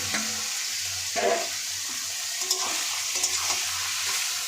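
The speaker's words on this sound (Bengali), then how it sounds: "এবার এই মাংসগুলো ঢেলে দিচ্ছে" Pieces of country chicken hit a hot pan for a home-style curry and fry with a low continuous sizzle, punctuated by a few soft stirring scrapes, close and without speech.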